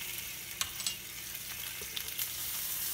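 Bok choy sizzles in a skillet with coconut aminos, a steady close frying hiss broken by a few light clicks and scrapes as it is stirred.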